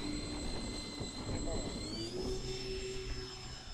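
A radio-controlled model B-24 Liberator on its first flight drones overhead with a steady whine of engines, the pitch shifting slightly as it passes at moderate distance, with light wind noise.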